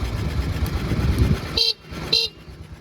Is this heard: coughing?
no